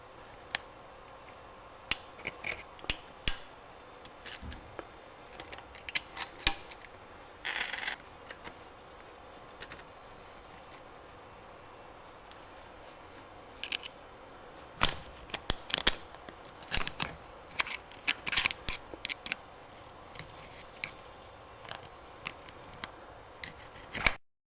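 Metal clicks and clinks while the nut and retaining ring come off a GM 14 bolt rear axle on a 98 Chevy K2500, with scattered sharp taps and short rattles at close range, some brief clusters, otherwise quiet.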